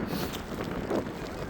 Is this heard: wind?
yes